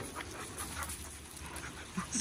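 Several dogs pant and play outdoors, with faint breathy panting and soft whimpers heard from a moderate distance over a low, continuous outdoor background.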